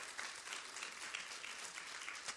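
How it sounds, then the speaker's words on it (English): Audience applause at a women's empowerment conference, steady and sustained clapping from a sizable crowd throughout, moderately distant with no voices over it. "Y'all go ahead and clap for that."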